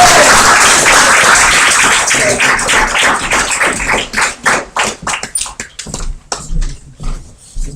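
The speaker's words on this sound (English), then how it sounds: "So we're welcome to the stage with a warm round of applause." Live audience applause at an open mic night greeting a performer, dense clapping and cheering that thins out into scattered individual claps and a few whoops as it fades.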